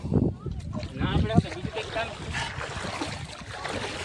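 A wooden boat with no engine, hauled along by rope across water near Rajpar village, gives off soft watery sloshing and knocks beneath steady nearby talk.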